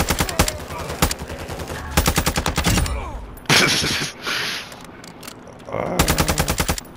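Loud bursts of automatic rifle fire in Call of Duty: Modern Warfare II, rapid volleys with short pauses between them, an echoing boom in the middle, and a voice speaking briefly.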